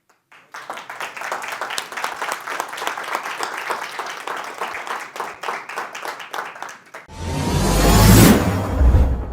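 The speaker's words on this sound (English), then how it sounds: "Clap." Audience applause at a live event in Las Vegas, dense clapping from a crowd lasting several seconds, then giving way to a loud rushing, wind-like noise near the end.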